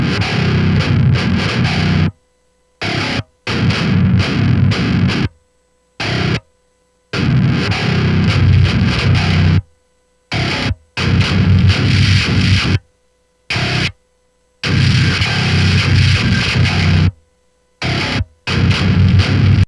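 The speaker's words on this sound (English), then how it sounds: "this hissing sound with the amp that you don't want to hear." Harsh, hissing distorted metal guitar amp tone playing in loud bursts, cutting abruptly to silence between phrases.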